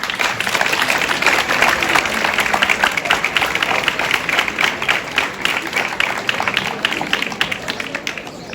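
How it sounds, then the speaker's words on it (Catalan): Steady, dense applause from an audience at a farewell for second-year baccalaureate students, loud and continuous throughout with no talking. "I per tot això, un fort aplaudiment"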